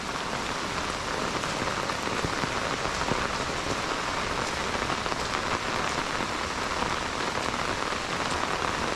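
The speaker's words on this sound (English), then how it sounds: "Been raining for 2 days" Steady rain falls on a homestead, a dense, even hiss of drops pattering on surfaces close by, with no pauses.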